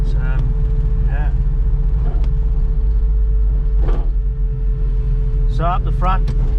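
A VJ Charger's HEMI 6 engine, a 265 with triple Webers and a solid cam, lumping along at a cruise with a loud, steady low rumble inside the car while people talk over it.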